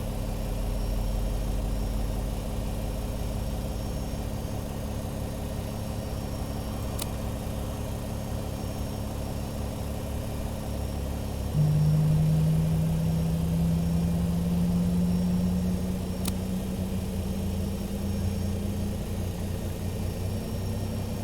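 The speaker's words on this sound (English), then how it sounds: "Starting engine number 2." Boeing 767-300ER jet engine number 2 spooling up during start, a steady low engine drone that rises with a distinct climbing tone partway through, heard from inside the aircraft.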